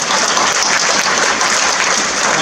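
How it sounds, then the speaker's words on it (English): Dense, steady applause fills a gala hall, many hands clapping at once in an even, loud wash with no voices. "So please join me to give her a round of applause."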